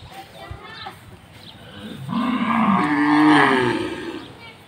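At a cattle farm in Chakaria with many black-and-white local cows, faint rustling gives way to a single long, loud moo that swells and fades near the end.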